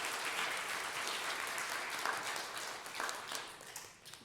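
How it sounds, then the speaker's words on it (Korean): A church congregation applauds together, a dense, sustained wash of clapping that fades slightly toward the end. "우리 졸지 말라고 박수로 한번 격려할까요?"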